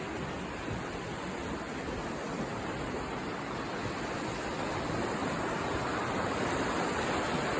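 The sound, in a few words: water flowing over the weir on the Lagan River, Dromore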